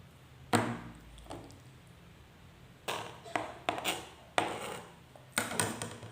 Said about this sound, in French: Il faut couper des tranches d'abord en longueur.